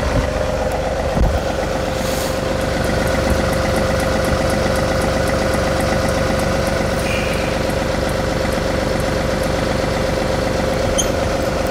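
A John Deere 3038e compact tractor idles steadily and close by with a continuous engine hum while its 3-point hitch is lowered. A faint whine sits above the idle with no talking.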